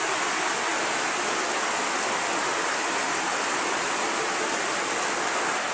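Heavy rain pours down in a steady, dense roar, loud and unbroken throughout with no voices, during a storm bringing flooding.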